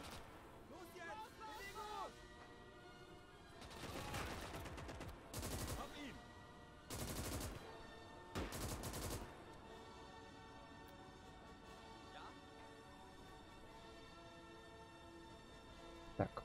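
Gunfire in the WWII strategy game Gates of Hell: Ostfront on the Eastern Front: several loud bursts of automatic fire and shots in clusters, separated by quieter battlefield ambience.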